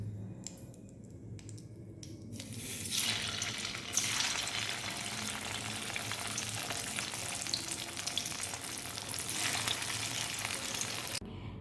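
Papaya pieces dropped into hot oil in a pan, a few faint clicks before a loud, dense sizzle that swells and keeps crackling steadily, then cuts off abruptly.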